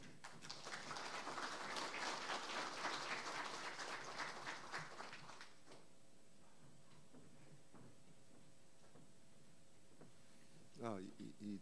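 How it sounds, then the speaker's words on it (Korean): An audience at a lecture applauds to welcome the speaker with dense, steady clapping for about five seconds, then it fades to a quiet room with a few faint knocks and a brief rustle. "오늘의 강사님을 박수로 모시겠습니다"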